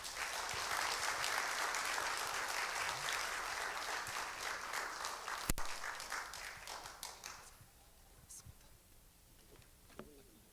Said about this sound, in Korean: 우리 목사님 나오실 때 우리 사모하는 마음으로 우리 박수로 받도록 하겠습니다.